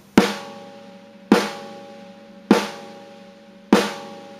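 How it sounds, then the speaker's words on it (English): Four separate snare drum hits struck in the center, each a sharp crack followed by a ringing tail, evenly spaced and heard alone. "for the snare drum, I'm going to make the decision to play it dead center"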